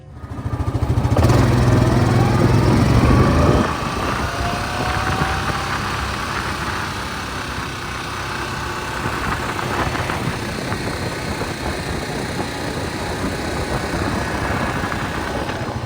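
A Yamaha Grizzly 700 ATV on ITP wheels revs loudly at first during a test ride around a lot, then settles into a steady engine drone that rises and falls slightly, close and continuous without speech.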